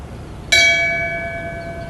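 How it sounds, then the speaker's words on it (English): A single memorial bell struck once in tribute, a sharp bright strike followed by a long, clear ringing tone that slowly fades in a quiet room. "ring the bell in tribute and in memory for retired Sergeant Edward Mayer"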